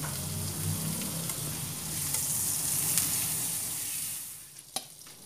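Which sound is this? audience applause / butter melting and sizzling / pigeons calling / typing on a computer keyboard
butter melting and sizzling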